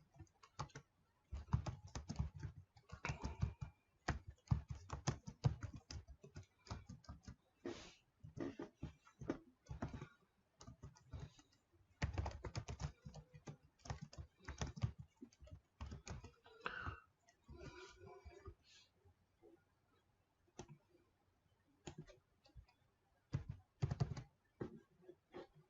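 Code is typed on a computer keyboard in rapid bursts of close, crisp key clicks, separated by short pauses, with no talking.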